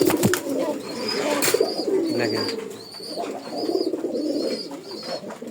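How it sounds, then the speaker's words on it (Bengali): A pair of large, round-headed cross-breed pigeons coo in a repeated, rhythmic series close by. A person speaks briefly at the start. "এই জায়গায় প্রথমে এক জোড়া দেখাচ্ছি গোল্লা কবুতর"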